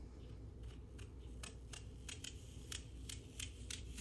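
A knife cuts the core out of a quartered apple while apple butter is being prepared, giving a series of crisp, separate close-up clicks and snips over a low steady background hum.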